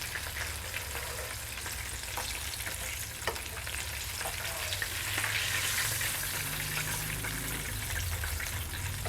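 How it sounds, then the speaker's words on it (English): Chicken frying in hot oil gives a steady, loud crackling sizzle that runs unbroken for several seconds, with no voices over it. "I'm just coming up on the end of my frying time here."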